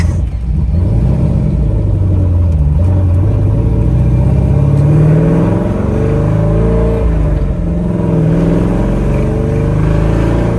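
A Perana Zagato Z-One car accelerates with a loud, close engine roar that rises and falls in pitch as it revs through the gears.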